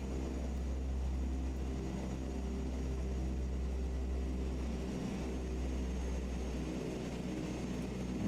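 A propeller aircraft engine in Microsoft Flight Simulator 2024 drones with a steady, low, rumbling hum that holds at an even level throughout, with no voices.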